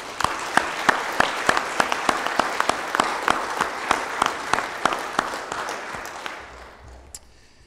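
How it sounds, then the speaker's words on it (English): Church audience applauding the mothers at a morning service, many hands falling into a loud, even rhythmic clap that holds steady for about six seconds, then quickly dies away. "Let's applaud all of our moms this morning."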